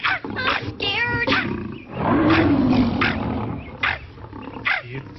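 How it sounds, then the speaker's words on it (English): A lion roars in a classic film soundtrack, with a loud, drawn-out growling roar in the middle, framed by shorter snarls and orchestral sound. "It sounds like a lion."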